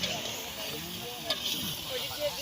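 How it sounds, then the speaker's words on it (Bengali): Mutton curry cooks in a pan with a soft, continuous sizzle and hiss, a faint clink partway through, and a muffled background hum. "খাসির মাংস রান্না হচ্ছে এই যে।"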